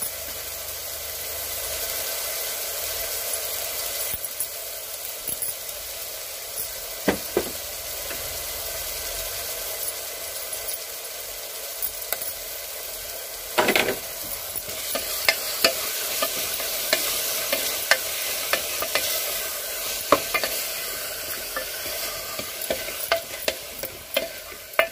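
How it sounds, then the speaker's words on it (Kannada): Green chili, coconut, cinnamon and cloves being dry-roasted and stirred in a pan: a steady hiss with repeated scraping strokes and occasional sharper knocks of the spatula, loud and close throughout. "ಇದನ್ನು ಒಂದು ನಿಮಿಷ ಹುರ್ಕೊಳ್ಳೋಣ"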